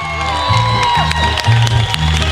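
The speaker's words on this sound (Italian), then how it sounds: "Un applauso a questi ragazzi grandiosi, bravi." An audience cheers and applauds young performers at a show, with loud crowd noise, shouts and whoops, and scattered clapping under a sustained hubbub.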